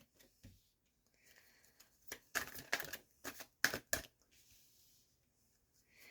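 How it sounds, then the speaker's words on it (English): Cards being shuffled in several quick riffling bursts, crisp and close, separated by short quiet gaps. "If I can shuffle my cards."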